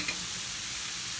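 Plant-based breakfast stirred in a hot pan, a brief, steady sizzle with soft scraping, heard alone.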